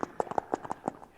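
A man imitates a horse's hooves clip-clopping with his voice, a quick run of about eight sharp knocking beats over just over a second, close and distinct.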